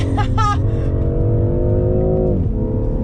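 A BMW M340i engine holds a steady, smooth rev at close range, its pitch dipping briefly near the end, with a short higher tone early on.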